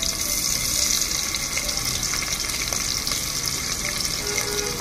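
Onions and cloves fry in a pot with a dense, loud, continuous sizzle that holds steady from start to finish without pauses, no speech.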